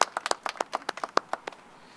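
A small audience applauding at a public announcement event, with a couple of dozen distinct claps in an uneven burst that fades out after about a second and a half, nearby and moderately loud.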